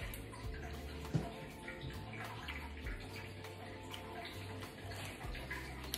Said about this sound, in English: That water is my turtle tank.